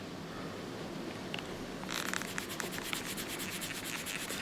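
A wet Lansky eraser block is rubbed back and forth over the flat of a rusty knife blade, a close, soft, rhythmic scrubbing that grows steadier and brighter halfway through, with no voices.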